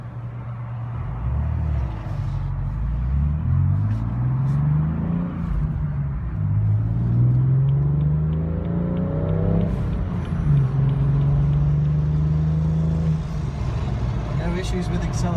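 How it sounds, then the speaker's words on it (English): A BMW M3 F80 ZCP accelerates under a light throttle, its engine note rising and falling in steady sweeps with a constant low drone from inside the cabin, while people talk over it. "No issues with acceleration. That's just touching the gas pedal."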